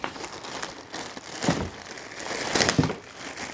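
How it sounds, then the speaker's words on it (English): Plastic packaging around a new Vibe kayak seat, the 2.0 seat for a Vibe Makana 100 kayak, is cut open with steady crinkling and crackling, rising to two louder crunching bursts, close up with no talking. "Now I'm going to go ahead and cut open this seat."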